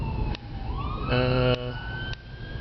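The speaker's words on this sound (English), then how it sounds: "Oh, there's an ambulance. Yeah, we're near the hospital here." An ambulance siren wails past near a hospital, its rising and falling tones heard from inside a taxi over low road rumble, with a voice talking briefly.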